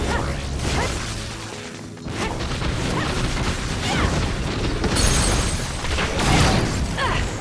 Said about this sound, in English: That other attacked with explosions.